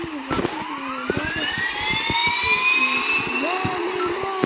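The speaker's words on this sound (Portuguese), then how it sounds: "Liga o motor, vambora" An aircraft engine starts up, its whine climbing steadily in pitch and growing louder, with clicks and mechanical ticks around it, close by.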